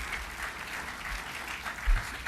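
Steady applause from a large audience at Konami's 2010 E3 press conference, a dense continuous clatter of clapping filling the hall, with a faint murmur of voices under it.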